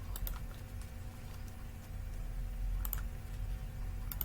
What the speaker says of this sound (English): So I am typing it